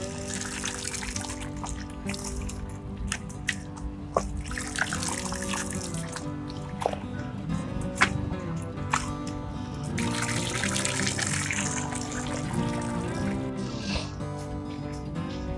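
Water trickles and splashes steadily as coconut coir is washed in a basin and the water drains away, a continuous close dribbling with scattered clinks and knocks layered over it.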